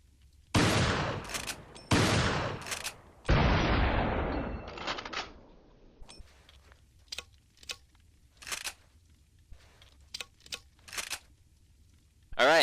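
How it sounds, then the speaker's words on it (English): The Riot gun shotgun fires in Resident Evil 4, with three loud booming blasts in the first half and their long decays, followed by several quieter sharp clicks and reload clatter. "let's test the Riot gun out"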